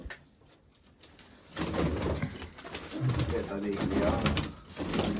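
Pigeons coo in a rural loft or yard, soft low calls rising over a louder bustle of handling and movement after the first second, with people talking nearby.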